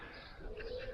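Pigeons cooing softly in crates inside a garage, a low murmuring coo rising in the second half over a quiet background.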